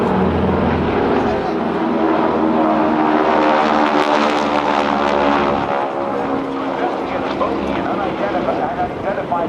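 The GEICO Skytypers, a formation of propeller airplanes at a 2008 Navy airshow, drone overhead as a continuous loud, rough engine roar, while an announcer talks over the public address.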